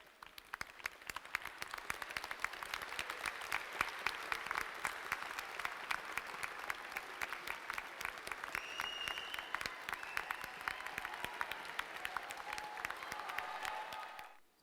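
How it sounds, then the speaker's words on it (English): Sustained applause from a graduation commencement crowd seated in the stands, steady dense clapping filling the whole stretch before fading out at the end. "give them a big round of applause"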